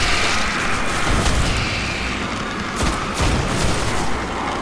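Gunfire and explosions from the Destiny video game form a dense, continuous barrage of booms and rapid shots that stays loud and close throughout, with no pause in the fighting.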